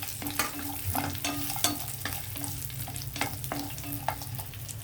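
Halved cashew nuts frying in a pan of hot fat for a sweet, with a steady soft sizzle and repeated stirring clicks and scrapes, close and alone without talk.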